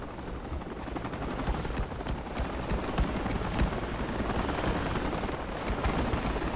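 Enemy helicopter in a video game, its dense rotor roar and thumping blades filling the scene steadily and loudly as it flies overhead, with no voices over it.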